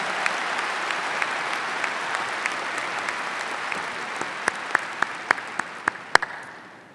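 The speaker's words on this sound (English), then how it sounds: "Let's give them a big round of applause." At a Northeastern University commencement, a large audience applauds the golden graduates in a broad, steady roar of clapping, with a few sharp, close claps standing out near the end as it begins to fade.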